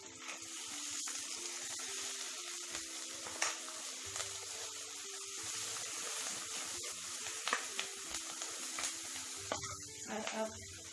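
Masala Maggi noodles cooking over a high flame as chili is tossed in, giving a soft, steady sizzle with scattered clinks and stirring scrapes, fairly quiet and close.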